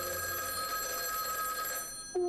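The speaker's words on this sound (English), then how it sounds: "The phone is ringing." A telephone rings inside the video game Schrödinger's Call, a steady bright electronic trill held continuously before cutting to a short tone, with no talk.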